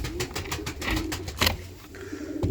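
Pigeons coo softly in a loft where young homing pigeon chicks are kept, with repeated close coos and some rustling and wing sounds, no talk.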